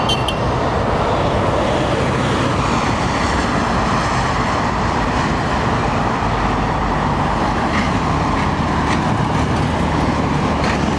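An airliner at London Heathrow Airport rolls down the runway after a slightly firm landing with the brakes on. The roar is loud, continuous and broadband and holds steady throughout.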